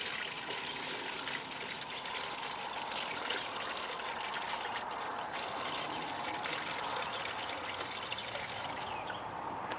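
Coolant water trickling out of the bottom of a Nissan Titan radiator, a faint continuous pouring splash that stays even throughout with no talk.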